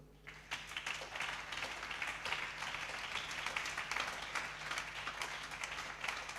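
A church congregation at a Sunday service applauds, a dense, steady wash of clapping from many hands that carries on throughout, fairly distant and faint.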